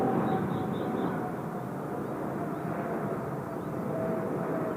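An Eastar Jet plane rolls along runway 16 right at Incheon Airport, a steady broad jet engine roar at moderate distance, continuous and without talk.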